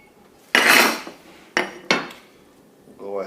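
A cast iron pudgie pie maker is popped open, giving a loud metallic clank followed by two shorter clanks of iron parts, close up, with a brief voice at the very end.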